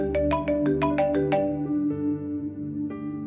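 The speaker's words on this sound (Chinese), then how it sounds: "电话响啦" A phone ringtone rings out in a Cantonese audio drama, a bright repeating electronic melody of quick tones that fades after a few seconds, with no talking over it.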